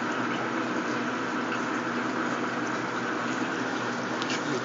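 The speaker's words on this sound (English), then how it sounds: "there's a couple of them that are siphoning right now" Water siphons through an aquaponics grow-bed drain, giving a steady, close, rushing gurgle that continues without a break.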